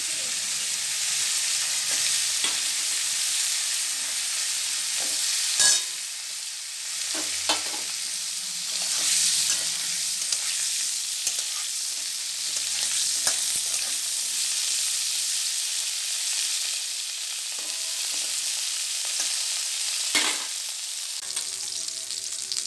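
Cauliflower pieces fry in hot oil in a pan for a fish curry, giving a steady, close sizzle and hiss with occasional stirring clatters and pops throughout.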